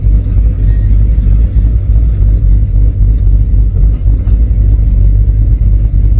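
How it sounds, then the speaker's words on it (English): A tow truck engine idling and rumbling steadily while being lined up to load a car, a loud, low, continuous drone heard up close without a break, with no talk over it. "Always fun lining these tow trucks up."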